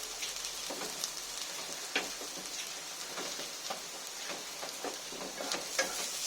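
Chopped onion with grated ginger and garlic fries in a pan, giving a soft steady sizzle broken by light scraping stirs and small crackles, moderately quiet and close with no voices.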